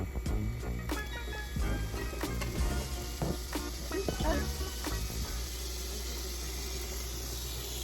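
Great Value sausage patties sizzle in a hot pan, with a steady frying hiss and a few clatters and taps early on as they are placed, then settling into a continuous sizzle.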